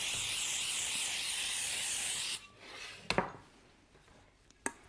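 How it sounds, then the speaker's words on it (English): Baker's Joy baking spray hisses continuously from an aerosol can into a baking pan for about two seconds, followed by a few sharp clanks of the pan being handled. "We're going to spray our pan with some Baker's Joy."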